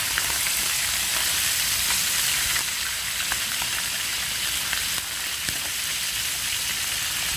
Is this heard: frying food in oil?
yes